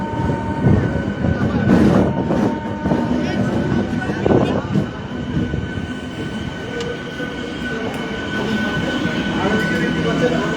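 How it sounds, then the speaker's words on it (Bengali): A train from Amghata rolling into Krishnanagar station, a loud continuous rumble of wheels and carriages with faint squeals, heard close alongside background voices. "আমঘাটা থেকে কৃষ্ণনগর স্টেশনে প্রথম কোনো ট্রেন আসলো"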